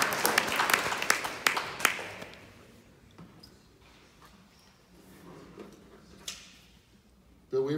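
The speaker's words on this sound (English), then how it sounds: "I think it's worth a clap." Audience applause at an orchid society meeting's show and tell, a burst of many hands clapping that fades over about two seconds, followed by quiet room noise and murmuring.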